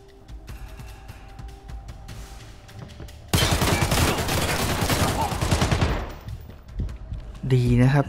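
Rapid burst of automatic gunfire in the shooter Arena Breakout: Infinite at a motel, a dense volley lasting a few seconds after a quieter stretch of ambient game noise.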